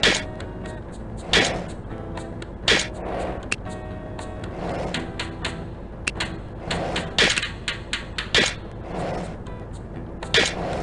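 Quick percussive keystroke and click effects from name entry in the You Don't Know Jack game, a series of sharp, irregular taps over a soft musical bed.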